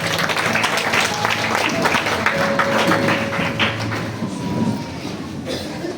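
Congregation applauding in a church service, a steady dense patter of many hands clapping at moderate loudness over a reverberant room, with a faint voice mixed in.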